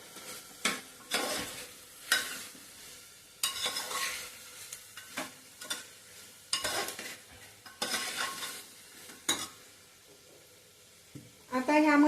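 Fresh coriander being stirred into a pot of spiced masala rice base, with intermittent scraping of a spoon against the pot and soft sizzling between strokes, close and moderately loud, a brief clatter near the end.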